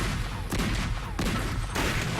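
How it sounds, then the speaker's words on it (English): A cannon fires, giving a few sharp, booming blasts in quick succession, each followed by a brief rumbling tail, with no talk. "All right, let's fire this cannon."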